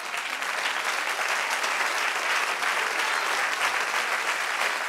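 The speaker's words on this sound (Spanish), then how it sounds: "Den un aplauso a ese que se lo merece" Church congregation applauding during a sermon, a full, even wash of many hands clapping at close range for the whole stretch, loud and steady without voices.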